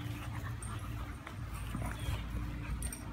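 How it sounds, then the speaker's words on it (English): A dog whimpers and snuffles indoors while playing with tennis balls, soft intermittent whines mixed with shuffling and low background noise. "Look at you, silly dog."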